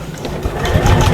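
A sewing machine stitches shadow quilting on a shopper bag, a short close burst of fast mechanical whirring and rattling that grows slightly louder toward the end.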